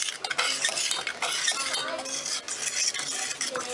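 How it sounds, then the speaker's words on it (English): A fork scrapes and clinks steadily around a crockpot, keeping a slightly clumpy roux moving in a quick, continuous stirring rhythm, loud and close, with no voices. "you can use this fork and keep it moving"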